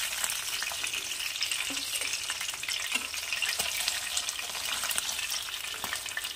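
Pabda fish pieces frying in hot oil for a Bengali mustard curry, giving a steady, close, dense sizzle with faint crackles and a few soft pan knocks throughout, with no voices.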